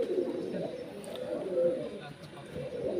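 Pigeons coo in a loft of Punjabi Malwai birds, with low, rolling murmurs that rise and fall continuously close by under faint background noise.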